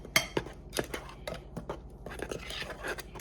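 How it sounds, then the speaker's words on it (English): A utensil stirs a flour mixture in a bowl for fried chicken gizzards, producing faint, close scraping and tapping strokes in an uneven rhythm, quiet throughout and with no voices. "And I'm going to take and stir this up a little bit"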